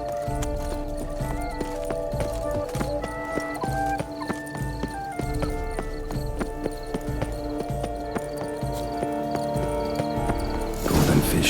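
A horse ridden across terrain in The Witcher 3 plods with steady, rhythmic clip-clop hooves over a layered game soundscape of music and ambience, with a whinny and a louder burst near the end.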